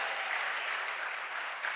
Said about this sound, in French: Tu vas te lever, tu vas acclamer le Seigneur.